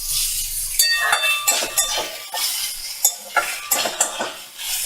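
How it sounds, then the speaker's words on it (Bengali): Grated coconut and slit green chillies stirred into kutri in a pan: a spoon clinks and scrapes against the metal in an uneven rhythm, close and fairly loud, with no talking. "এবার এটা নাড়াচাড়া করে ভালো করে নারকেল কোড়াটা কুতরির সাথে মিশিয়ে নেব।"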